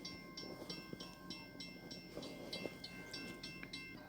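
Grain cars of a freight train roll past trackside, a steady rhythmic clickety-clack of wheels over rail joints with a high metallic squeal riding above the continuous rumble, no voices.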